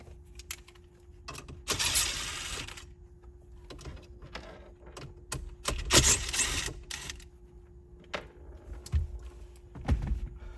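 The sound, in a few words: removing two 7mm screws from car radio chassis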